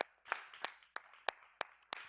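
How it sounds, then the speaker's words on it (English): A few people at a small community talk event clap in slow, separate bursts, seven sharp claps spaced about a third of a second apart, close and fairly quiet, with no crowd roar. "One more round of applause, you guys"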